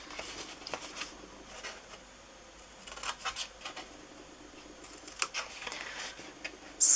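Scissors cut card for a cantilever picnic box with soft, scattered snips and rustles, close and quiet, coming in short clusters with pauses between them.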